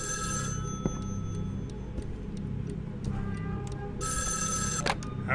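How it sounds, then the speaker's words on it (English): An old telephone rings in the horror video game Evil Inside: two loud bursts of bell ringing, one at the start and one near the end, separated by quiet room tone with faint ticking. "I gotta go over here to the phone."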